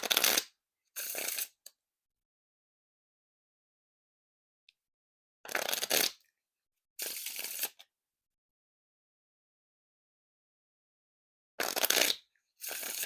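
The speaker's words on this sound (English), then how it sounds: "And now time for the Riffle Shuffle or Bridge Shuffle." A deck of playing cards is riffle and bridge shuffled several times, each shuffle a short crisp burst of rapid fluttering card snaps separated by stretches of silence, close and clear with no talking.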